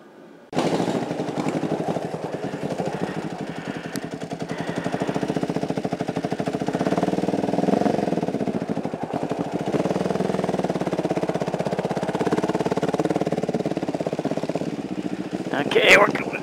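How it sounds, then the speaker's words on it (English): A motorcycle engine cranks over and settles into a steady, loud idle at minus 23 degrees Fahrenheit with packed snow around, running continuously and close by, with a brief sharper burst near the end. "So let's go see if the bike will start."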